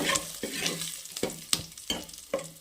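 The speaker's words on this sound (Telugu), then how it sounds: "జస్ట్ కరివేపాకు వేగితే సరిపోతుంది ఇంతే" Curry leaves frying in hot oil for a grandmother-style tamarind chutney (chintapandu pachadi), giving a steady close sizzle punctuated by several sharp stirring clatters of a spoon against the pan.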